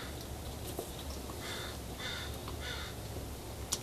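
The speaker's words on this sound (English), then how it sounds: "The crow's saying, give me some." Several crow caws, a few of them clustered near the middle, heard at a moderate distance against a steady background hum.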